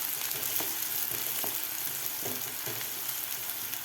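Finely chopped onion sautéing in a pan for a dhaba-style baingan masala, giving a steady sizzle with a few soft stirring scrapes, close and alone.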